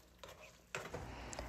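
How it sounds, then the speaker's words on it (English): Snow peas and shrimp being stir-fried in garlic sauce in a pan, giving a low, steady sizzle with a few clinks and scrapes of a utensil against the pan, close and moderately loud, with no talking. "Just keep stir frying, making sure everything is coated with the amazing sauce."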